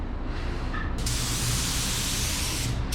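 A paint spray gun hisses in a steady, forceful burst lasting about two seconds, close and loud, with a quieter hiss before and after, while painting a Mitsubishi Eclipse GSX.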